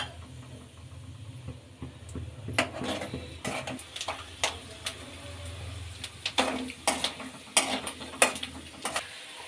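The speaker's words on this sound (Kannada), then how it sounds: "ಈಗ ಇದೇ ಎಣ್ಣೆಗೆ ಕಡಲೆಕಾಯಿ ಬೀಜನ ಉರ್ಕೋಬೇಕು." Peanuts roast in oil in a pan, giving a soft low sizzle under scattered clinks and scrapes of a spoon stirring against metal, close and fairly quiet.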